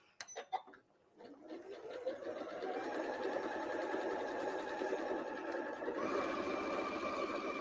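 A sewing machine runs a straight stitch through fabric along an apron seam. A few clicks come first, then a steady, close mechanical whir that carries on and shifts slightly higher toward the end, with no talking.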